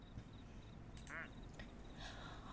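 A single cartoonish duck quack sounds in a video game, brief and clear over a low background hum with faint high tones, alone without speech.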